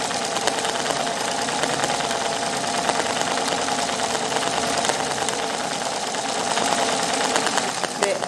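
A home sewing machine stitches a straight stitch to embroider a design, with a continuous close mechanical whirring and rapid needle clatter throughout.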